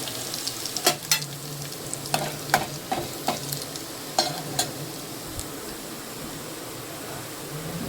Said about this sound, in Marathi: लसूण टाकलाय फोडणीला. तेल गरम झालंय.